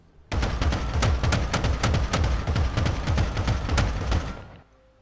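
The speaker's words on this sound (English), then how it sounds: "Showing that the gun still works, that the gunner can also fire the gun" A tank gun in Scrap Mechanic fires in a rapid, steady string of loud, punchy shots lasting about four seconds, then cutting off and leaving quiet.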